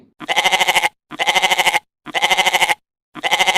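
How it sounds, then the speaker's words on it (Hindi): A goat bleats four times in a row, each call a long, loud, wavering cry with short silent gaps between them, close and clear with no talking. "अरे ये तो उसी बकरी की आवाज है।"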